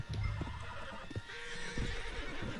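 A horse in the video game Red Dead Redemption 2 whinnies loudly and close, with hoof clip-clops and background game sounds mixed in.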